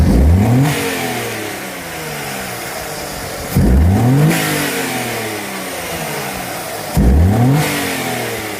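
A car's accelerator pedal is pressed three times in a row, and each press brings a loud, close engine rev that sweeps up and then settles back toward idle, spaced a few seconds apart.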